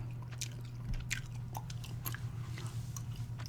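Close, steady gum chewing with soft wet smacks and clicks repeating throughout, layered over a constant low hum from a sports discussion playing in the background.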